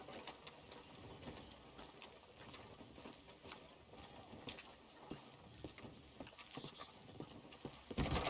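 Horses' hooves clip-clop at a steady walking rhythm in Red Dead, soft and fairly quiet, under low outdoor ambience with faint creaks and a louder thump right at the end.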